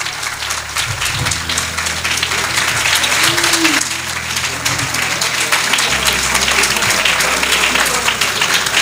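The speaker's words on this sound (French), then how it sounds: "Applaudissements nourris pour le président Cheikh Tidiane Thiam." Steady, dense applause from a crowd honoring president Tidjane Thiam at a signing ceremony in Côte d'Ivoire, continuous clapping with faint voices rising through it.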